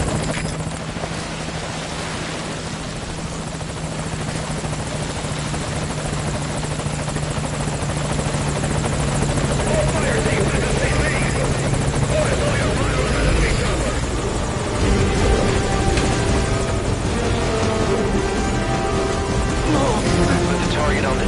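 Helicopter rotor thumping steadily in Metal Gear Solid Ground Zeroes, a loud continuous whirring drone that holds throughout, with voices talking over it.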